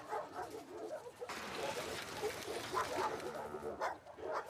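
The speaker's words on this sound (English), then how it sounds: "Hey, you crazy dog." A dog barks and yips a few times in The Last of Us Part 2, close and moderately loud over steady game ambience.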